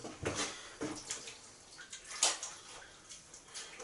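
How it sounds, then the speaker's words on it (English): Hands are rinsed under running water after lathering shaving soap, giving soft splashing and trickling in uneven bursts close by, fairly quiet, with no talk. "rinse off the old hands in the water"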